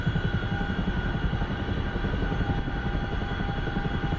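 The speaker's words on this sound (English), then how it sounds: "So the Chinook is flipping loud" A Chinook helicopter in the DCS flight simulator thunders with loud, constant rotor chop and turbine whine, a dense, close, unbroken roar with no talking.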